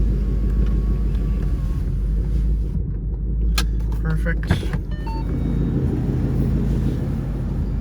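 A car engine idles with a deep steady rumble, close by, while someone briefly speaks over it.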